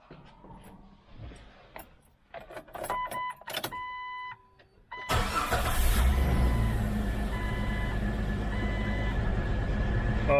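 A Jeep TJ with a freshly replaced exhaust manifold gives a few close clicks and a brief whirring crank, then the engine catches and settles into a loud, steady idle.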